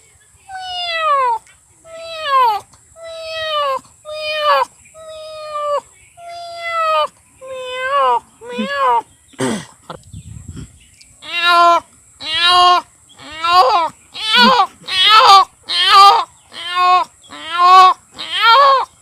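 A voice imitates a cat meowing, a long series of about sixteen rising-and-falling mews at a steady rhythm, close and loud, with a short break and a thump partway through before the calls resume more urgently.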